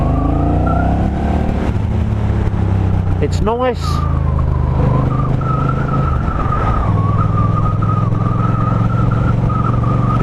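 A Honda Rebel 1100 cruiser motorcycle on standard exhaust cans runs with a steady, moderate engine note and a brief louder burst, while someone talks over it.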